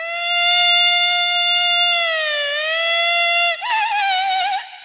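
A voice imitating a VIP car siren, a loud wavering wail that rises and falls, then breaks into a faster warbling whoop near the end before stopping.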